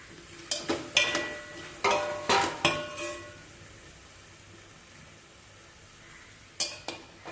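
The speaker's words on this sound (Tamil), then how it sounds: "ஒரு வெங்காயத்தை கட் பண்ணி உள்ளே சேர்த்துக்கலாம்." Chopped onion goes into a hot pan for a bottle gourd dish and is stirred, giving a cluster of sharp metallic scrapes and clinks over a soft sizzle, a quieter gap, then a few more clinks near the end.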